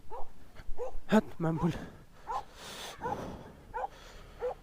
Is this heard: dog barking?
yes